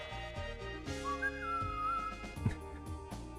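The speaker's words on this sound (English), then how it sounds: "Mario just whistling it up, enjoying a nice par." Mario whistles a short, wavering tune in the Mario Golf video game after a par, heard clearly over steady background game music for a couple of seconds.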